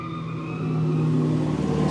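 A car drifts at a live drift event in Mexico, its engine holding a loud, steady high-revving tone with tire squeal rising over about two seconds.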